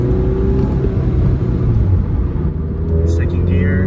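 A car fitted with an aftermarket air intake accelerates in first gear, its engine a steady loud rumble close by with a low droning tone throughout, and a voice talks over it.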